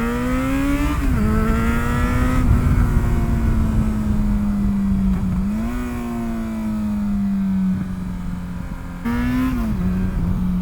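An XJ6 motorcycle engine hums steadily while being ridden, its pitch rising and dipping with gear changes and throttle, close and loud, with continuous wind rush and no talking.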